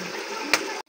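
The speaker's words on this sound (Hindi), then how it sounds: "अब मैं पानी डालने लगी।" Water poured into a pot of frying chicken pulao, a short hiss and splash that stops abruptly after under a second, with no speech.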